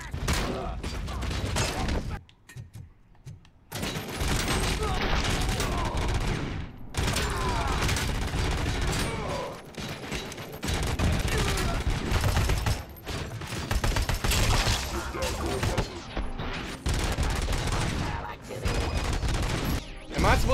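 Dense bursts of gunfire in RoboCop: Rogue City, a rapid fusillade with automatic weapon fire and impacts running almost continuously and loud, broken by a couple of brief lulls, with a player's voice talking over parts of it.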